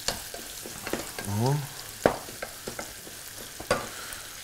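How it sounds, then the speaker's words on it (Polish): Leeks sizzling in a pan while being stirred, a steady frying hiss punctuated by sharp utensil clacks and scrapes, with a brief vocal exclamation partway through. "Tutaj pora sobie również udusimy ładnie."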